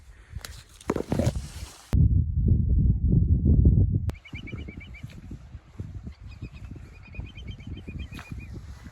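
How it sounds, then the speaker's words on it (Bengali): Birds burst into flight from a forest at Patibunia near the Bay of Bengal coast, a loud flurry of flapping wings in the opening seconds, followed by scattered bird calls and rustling movement nearby. "দেখলে কত সুন্দর আওয়াজ করে উড়ে গেল পাখিগুলো"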